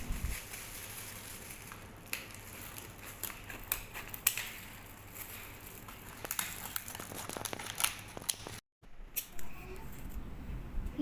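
Seaweed rice cracker dough being cut into squares, a run of close, crisp snips and crinkly cuts repeating irregularly over quiet kitchen background.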